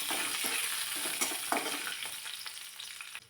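Chopped coriander hits hot oil in a pan, making a steady close sizzle with occasional soft stirring knocks, the hiss easing slightly toward the end and no voices present.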